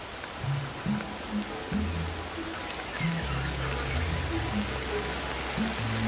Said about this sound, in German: Oh, uns ist kalt. Es regnet.